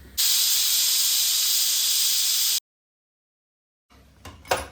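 A loud, sustained steam hiss blasts from a pressure cooker whistle for a couple of seconds, cuts off into silence, then faint clatter and a short burst follow.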